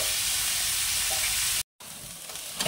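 Potatoes frying in oil with salt and turmeric, a steady close sizzle that cuts out briefly and resumes with a few stirring scrapes.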